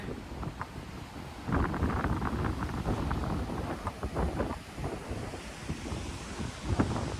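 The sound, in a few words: waves and wind on a wide south coast beach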